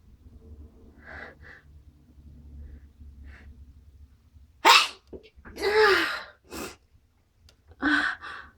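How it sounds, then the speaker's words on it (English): A person sneezes loudly and close by after a few soft, breathy gasps and sniffs, with several sharp explosive bursts and no speech. "I'm gonna sneeze."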